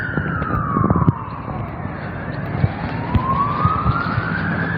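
An ambulance siren wails on a busy road, its tone sweeping down then rising again, loud and steady over traffic rumble and scattered clatter.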